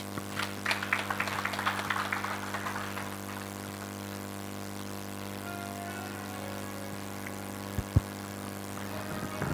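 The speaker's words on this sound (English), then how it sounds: "Let's give another round of applause" An audience claps at the close of a university public lecture, a dense patter of applause at the start that thins and fades within a few seconds and gives way to a steady electrical hum with a couple of isolated knocks.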